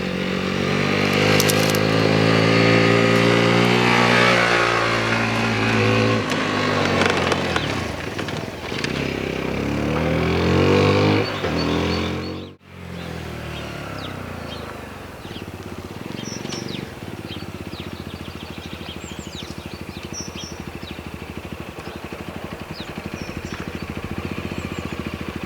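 A 2021 Sinnis Terrain E5 liquid-cooled 125cc motorcycle ridden off-road, its engine droning steadily and loudly up close, revving and dipping before a brief cutout, then running on with a rougher, lower hum.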